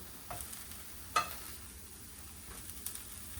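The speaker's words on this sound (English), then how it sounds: "Veggies are starting to get some good color on them. Time to flip the tofu." Tofu and vegetables frying in a pan, giving a soft, quiet sizzle with a few light scrapes and stirring taps, one sharper clatter, heard alone without talk.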